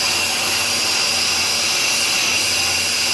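A vehicle's brake rotor being machined to cure brake pulsation, its cutter removing material in a loud, steady, unbroken grinding whine with a constant hum underneath.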